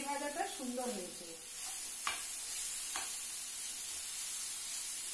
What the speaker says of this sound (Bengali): তিল দিয়ে বেসন দিয়ে ভেন্ডি ভাজা